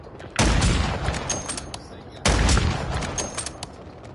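Two loud, sharp sniper rifle shots in a Call of Duty game, spaced about two seconds apart, each with a booming crack and a long echoing tail.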